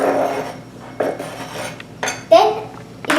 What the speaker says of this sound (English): take your cut up meat and tomatoes and put it onto the pan